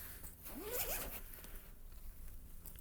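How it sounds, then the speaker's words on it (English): A zipper on a camera gear backpack is drawn open in one steady, close, scratchy pull, followed by faint handling rustle. "Make sure I get the right zipper this time."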